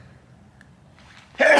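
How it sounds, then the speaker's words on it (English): A single person's sneeze bursts out loudly at the end after a quiet inhaling buildup, close to the listener. "I did sneeze."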